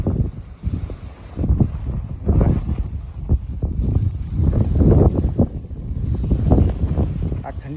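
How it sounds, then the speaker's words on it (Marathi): Cold wind blows outdoors near a mango tree, a steady, gusty low rumble buffeting the microphone throughout, rising and falling in strength without letting up. "आज थंडी हवा खूप चालू आहे."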